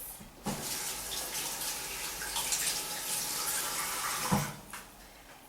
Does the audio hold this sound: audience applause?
no